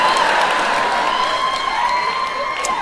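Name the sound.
audience cheering and applauding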